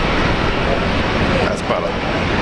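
A Korean Air airliner touches down at Brisbane Airport, its steady broadband engine and airframe roar filling the clip at close range with a slight swell midway.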